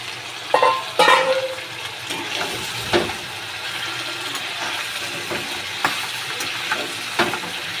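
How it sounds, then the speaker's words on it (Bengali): Potatoes go into a pan of frying Bengali chicken curry, giving a steady sizzle with several sharp clinks and stirring knocks scattered through it, close and fairly loud, with no talk. "এবার আমি আলুগুলো ওর মধ্যে দিয়ে দেব"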